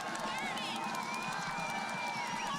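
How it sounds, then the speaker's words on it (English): Spectators cheer and shout continuously at the finish of a women's 15 km standing cross-country ski race at the Sochi Paralympics, a broad, moderately distant roar with scattered whoops and a commentator talking over it. "The sound of the crowd in her ears."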